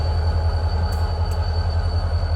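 An NYSW freight train rumbles on the Utica branch in snow. The low, heavy roll is steady and close, with faint wheel squeals near the middle.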